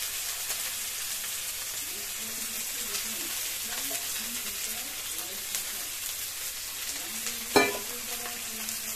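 Ginger and onion paste sizzles and fries in a pan, a steady crackling hiss with light stirring scrapes and one sharp clatter near the end; no talk.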